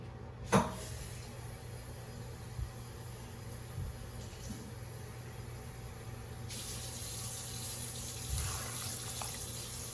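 Steady running tap water fills an empty Rotel can, a constant watery hiss with a couple of brief clunks and knocks near the start.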